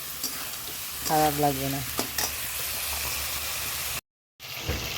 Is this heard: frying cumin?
yes